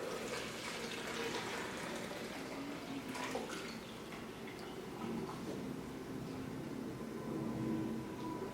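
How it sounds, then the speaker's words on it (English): Cooled rose water runs and splashes as it is strained, a continuous soft pouring and trickling that goes on throughout at a moderate, even level. "you want to strain the water"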